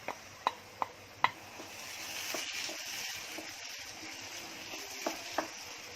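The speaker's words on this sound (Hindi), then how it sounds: "अब दही डाली, दही को भी और थोड़ा भूनूंगी" Masala with yogurt frying in a pan for butter chicken, a steady hiss of sizzling with a few sharp spoon taps against the pan near the start and again near the end.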